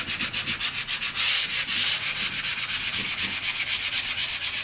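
Sandpaper working the finish coat on an old wooden dresser, close rhythmic back-and-forth scratching strokes at a steady pace with no talking.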